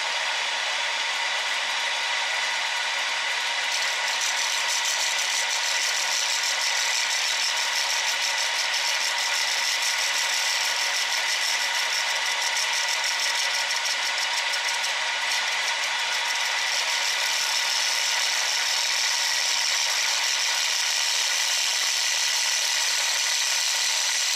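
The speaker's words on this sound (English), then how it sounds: "So now I'm going to flip the tool rest around and shave off all this epoxy on the backside." A wood lathe takes a skim cut, the gouge shaving epoxy off the back of a scrap wood bowl, giving a steady, loud, unbroken hiss and whir that runs on without pause.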